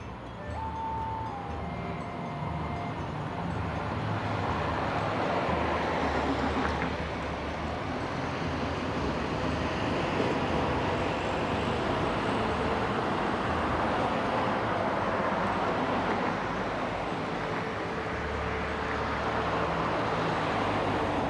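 Steady rumbling traffic and rail noise fills the scene throughout, a continuous broad roar as a train runs on an elevated track in Woodlands, Singapore, with road vehicles nearby on a Sunday morning.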